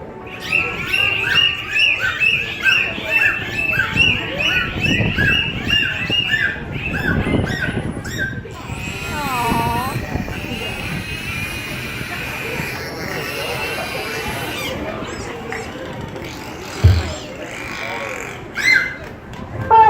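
Dolphins at a marine park in Destin, Florida, making varied whistles, chirps and squawks through their blowholes, a rapid sequence of rising and falling calls followed by sweeping whistles and a few sharp bursts near the end.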